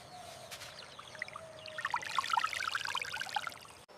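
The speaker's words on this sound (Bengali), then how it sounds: "বালি খুঁড়ে জল বার করছি, আর সেই স্বচ্ছ জল খাবো আমি।" Water poured out after digging in sand in a jungle, a thin trickling stream with bubbly splashes growing busier toward the end, close and faint.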